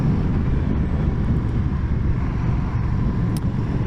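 A Honda CMX1100 Rebel motorcycle engine gives a deep, steady low rumble, loud and continuous, with no talking over it.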